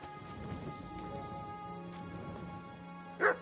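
A dog in Kingdom Come: Deliverance 2 gives a single short, sharp bark near the end, after a stretch of quiet ambient game sound.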